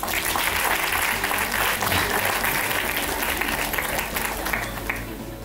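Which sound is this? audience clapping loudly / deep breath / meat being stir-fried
audience clapping loudly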